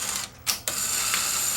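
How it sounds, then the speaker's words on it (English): A Sony SLHF300 Beta hi-fi VCR ejects its tape after the lever is flipped, a short mechanical whir with gear and ratchet clicks and a brief pause partway through, close and alone. "Oh, flip the lever. There we go. Eject."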